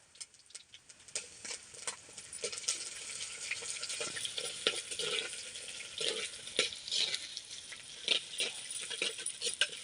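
Curry leaves and garlic crackle and sizzle in hot oil inside a clay pot, a busy spattering fry with scattered sharp pops and stirring scrapes, close and steady with no talk.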